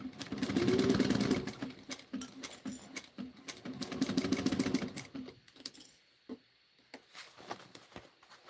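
A sewing machine stitches fabric alongside a zipper in two sustained bursts of rapid mechanical whirring and clatter, with quieter handling noises in between.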